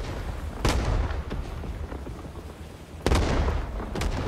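Artillery strikes in the video game Rising Storm 2 Vietnam, two heavy booming impacts about two seconds apart over constant rumbling battlefield noise, with fainter shots between them.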